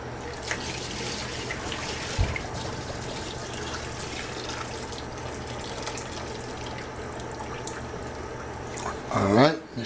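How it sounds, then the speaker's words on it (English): Water from a pot of boiled sweet potatoes is drained into a sink, a steady broadband rush running under the whole stretch with a louder gurgling splash near the end. "So I'm going to drain the water out."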